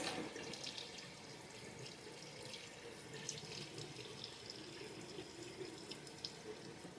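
A kitchen tap runs steadily while salmon is rinsed, a soft continuous splashing stream with occasional drips, faint and fairly close, with no talking.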